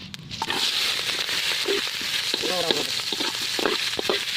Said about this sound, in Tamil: வெங்காயம் சின்ன கட் பண்ணி போட்டுருவோம்.